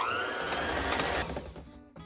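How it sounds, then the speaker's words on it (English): A handheld electric mixer whirs steadily through cheesecake filling, a close, buzzing motor drone that winds down and stops near the end of the short stretch. "I'm going to use my handheld electric mixer."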